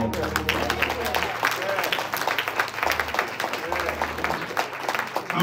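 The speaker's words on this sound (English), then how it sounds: "Clap your hands right here." A church congregation clapping hands together during an online worship service, steady dense rhythmic clapping with crowd noise and a low organ-like tone underneath.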